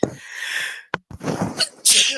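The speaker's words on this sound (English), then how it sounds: "I don't know where that sneeze came from" A single sharp sneeze bursts out near the start, followed by a short pause and then a stretch of speech ending in a loud breathy burst.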